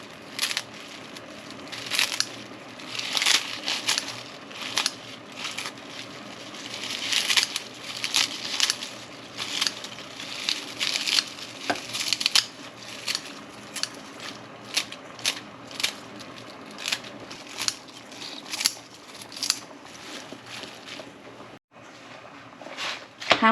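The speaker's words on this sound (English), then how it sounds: "I dedicate a scissor just for cutting my food. And you just start cutting your kale in here." Kitchen scissors cut through kale stems and leaves, producing a steady stream of close, crunchy snips and rustles that keeps up almost without pause, with a few sharper clicks near the end.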